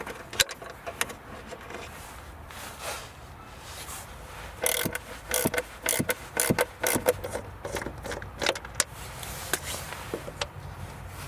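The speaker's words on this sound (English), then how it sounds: "Now we'll use 10mm socket to remove the bolts holding the module cover in place." A 10mm socket turns out bolts on the module cover of a Volvo XC, giving faint scattered metallic clicks, ratchet ticks and rubbing scrapes, quiet and close, with busier clusters of sharp taps through the middle.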